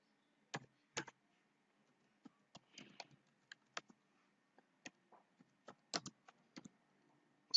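Keystrokes on a computer keyboard while typing text in Photoshop, a sparse run of sharp separate clicks in short irregular bursts, close and fairly quiet with pauses between.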